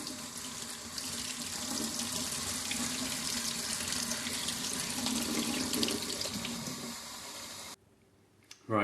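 Warm tap water runs steadily from a faucet into a bowl, a continuous bright splashing rush for several seconds before the tap is shut off and the sound cuts out abruptly, leaving a brief quiet and a small knock.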